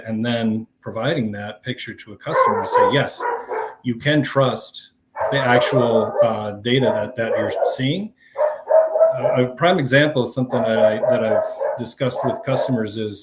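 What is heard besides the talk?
dog barking in the background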